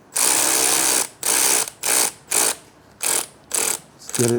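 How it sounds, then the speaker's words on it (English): Short ratcheting bursts as an 8mm Allen key tightens an exhaust bolt on an air-cooled Triumph Bonneville during a 2-2 drag pipe install, six or seven loud close clicks with pauses between; someone speaks briefly at the end. "Tighten up the bolt with an 8mm Allen."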